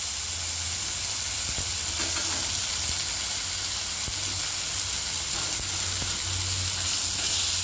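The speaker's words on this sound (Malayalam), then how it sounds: "ഉള്ളിയും കൂടെ ചേർത്ത് നമുക്ക് നന്നായിട്ട് വഴക്കാം. സ്ലോ ഫ്ലെയിമിൽ തന്നെ വഴറ്റിയെടുക്കണേ" Chopped onions with tomato sautéing in a little oil over a slow flame, a continuous soft sizzle and hiss with occasional scraping stirs in the pan, close and steady.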